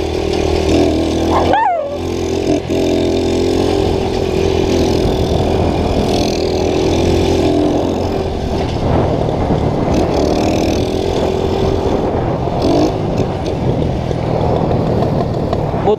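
A small four-stroke moped engine runs steadily and loudly throughout, its drone rising and falling slightly as the moped rides along, with no voices over it.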